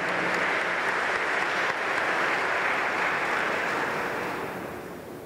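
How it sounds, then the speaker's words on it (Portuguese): Audience at a business awards ceremony clapping for honorees, a dense, sustained roar of many hands that holds steady and then fades slightly toward the end. "Uma salva de palmas, então, ao senhor Ricardo"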